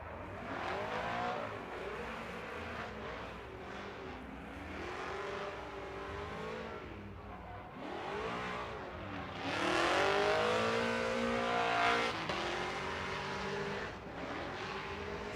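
Chevrolet Camaro drift car on Hankook tires at a Formula Drift night round in Las Vegas, engine revving hard and continuously with rising and falling throttle sweeps, loud and close throughout.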